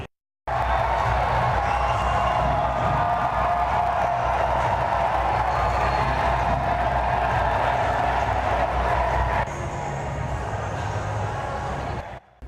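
An enthusiastic crowd at a campaign speech for Ohio's governor at Baldwin-Wallace University applauds and cheers in a loud, sustained roar of clapping and voices that holds steady for several seconds, then eases slightly near the end.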